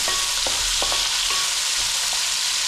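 Onions for village-style mutton biryani frying in a pan, a loud dense hiss of hot oil close by, with a few light clicks of stirring and no voices.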